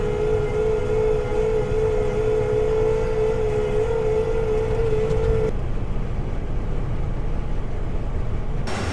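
Combine harvester engine idling with a steady drone and a whining tone that cuts off partway through, then a lower rumble continues as the machine shuts down.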